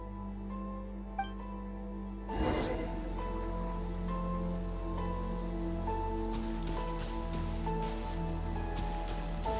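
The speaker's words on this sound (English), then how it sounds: "It's raining again?" Video game rain begins abruptly and keeps falling, a dense hiss of drops over a low ambient hum and soft tonal background.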